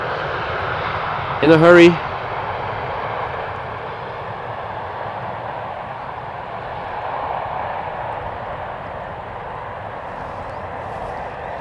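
A KLM airliner arriving on runway 18R at Amsterdam Schiphol: a steady, broad engine roar sits in the distance throughout, and someone speaks briefly near the start.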